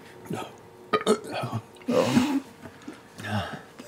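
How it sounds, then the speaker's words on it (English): A drawn-out, rumbling burp after draining a wineskin, performed by a voice, sits among bursts of talk and laughter around a tabletop role-playing game. "It's his burp."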